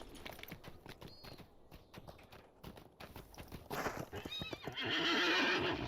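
War steed in the Lord of the Rings Online video game, clopping hooves on the move with a couple of neighs and whinnies, getting louder and busier toward the end.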